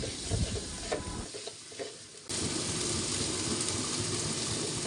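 Whole green chilies drop into hot oil with rice for khichuri, giving a loud, steady sizzle with stirring scrapes; the frying dips briefly, then surges back into a dense, continuous hiss.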